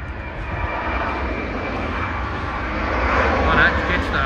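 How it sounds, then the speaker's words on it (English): Jetstar Airbus A321neo jet arriving on runway 34L at Sydney Airport, a broad steady engine roar in the distance that swells slightly toward the end, with people talking over it. "Got one Jetstar coming in, one departing."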